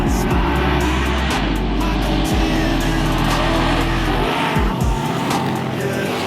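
Off-road race trucks launch together at the start of a short course race in Baja, a loud, close roar of many engines revving hard and climbing through gears, with tire noise and shifting pitch.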